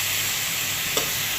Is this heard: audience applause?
no